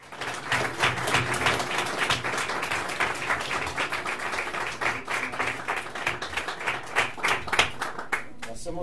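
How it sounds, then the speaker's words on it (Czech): Audience applause welcoming Karel Schwarzenberg at a public talk: brisk, dense clapping from a room of people, individual claps distinct, sustained throughout with a slight pulsing rhythm and no voices over it. "Pojďme přivítat bouřlivý potleskem Karla Schwarzenberga"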